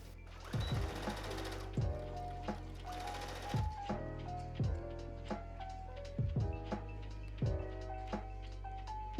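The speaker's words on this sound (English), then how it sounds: "I'm going to sew this together across the bodice." A sewing machine stitching a gathered skirt onto the bodice of a backless puff-sleeve sundress, a close mechanical whir that runs in short repeated bursts separated by brief clunks and pauses.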